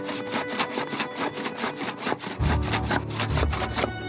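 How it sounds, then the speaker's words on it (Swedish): A saw cutting through a wooden board, with steady rapid back-and-forth rasping strokes, loud and close, and a deeper rumbling layer joining partway through. "Såga sönder den jävla brädan."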